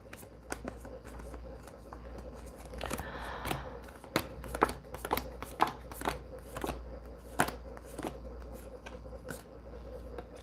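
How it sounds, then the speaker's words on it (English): A deck of tarot cards is shuffled by hand, with repeated crisp riffling and snapping bursts in an irregular rhythm, close and fairly clear against a quiet room. "That's just poor shuffling on my part, and I have to fix it."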